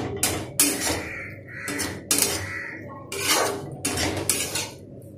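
A spoon scraping and clanking against a metal pan while gular (cluster fig) sabzi with garam masala is stirred, loud irregular metallic strokes repeated close up, no talking.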